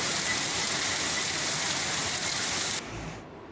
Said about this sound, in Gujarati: સાવરકુંડલા ગ્રામ્ય પંથકમાં કમોસમી વરસાદની રમઝટ બોલી છે